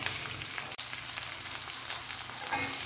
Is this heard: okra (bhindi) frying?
yes